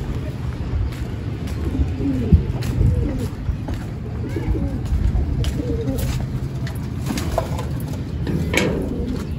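A caged pigeon coos softly several times under a steady wash of background noise and nearby talking. The calls are faint and intermittent.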